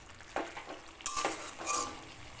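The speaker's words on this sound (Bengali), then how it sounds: "আলুটা একটু কিছু কিছু আলু খুন্তি দিয়ে চেপে একটু এর সঙ্গে লাউ শাকের সঙ্গে মিশিয়ে নেব।" A spatula presses and mashes potatoes into bottle gourd greens in a pan, with soft scraping pushes and light metallic clinks over a low background sizzle.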